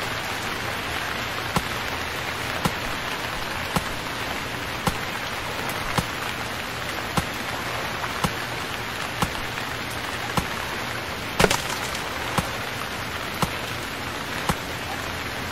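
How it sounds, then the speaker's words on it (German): Steady rain in the video game Stranded Deep pours continuously, a dense hiss with scattered drops tapping on a surface, no voices. "Regen, du kannst auch mal wieder aufhören."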